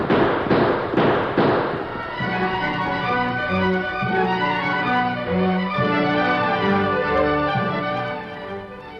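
Staged gunfire in a shootout for a radio drama, a quick cluster of four loud shots at the start, then dramatic music carrying on alone.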